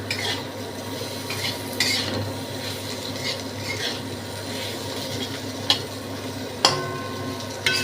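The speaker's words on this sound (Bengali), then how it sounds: "গ্যাস কমিয়ে ভাজছি, একদম কমিয়ে দিয়েছি গ্যাস।" Okra and potato curry frying in a pan over a very low gas flame, a steady soft sizzle with occasional stirring scrapes and a couple of sharp utensil clinks against the pan, close and moderately quiet with no talk.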